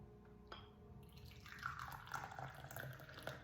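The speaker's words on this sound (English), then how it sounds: "let's pour the tea" Tea is poured from a pot into a cup, a soft steady liquid trickle that starts after a faint clink and runs on continuously, close and quiet, with no talk over it.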